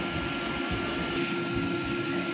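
A printer runs a print head cleaning cycle, giving a steady mechanical whir and hum with a grinding, rumbling low end that continues without a break for a couple of seconds.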